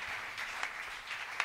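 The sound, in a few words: congregation applauding the king of glory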